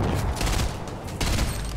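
Explosions and rapid gunfire burst from a video game, dense crackling volleys that pulse in waves over about two seconds, moderately loud and busy.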